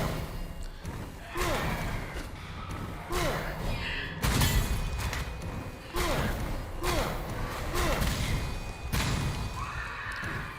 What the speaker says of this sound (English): Those explosions actually helped me quite a bit.